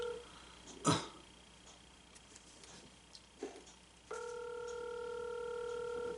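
A phone call rings out unanswered: a few faint knocks and shuffles first, then a steady electronic ringback tone begins partway through and holds to the end.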